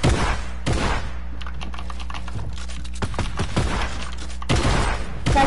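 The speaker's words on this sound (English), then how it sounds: "They're shooting at me." Video game gunfire in rapid bursts, with loud dense volleys at the start and end and crisp clicking shots and taps between them, close and dominant.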